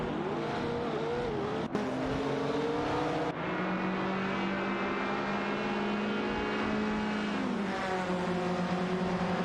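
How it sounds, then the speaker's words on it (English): Race cars in a racing video game, a Lancia Stratos HF and an Alpine A110 1800, scream at high revs with a steady engine whine, shifting pitch through gear changes. "A close duel is forming between Flying Eye in a Lancia Stratos HF and Captain Potato, in an Alpine A110 1800s for that position"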